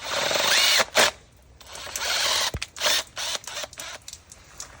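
Power drill driving screws into gutter straps, short bursts of whirring motor broken by pauses and clicks, loud and close with no talking.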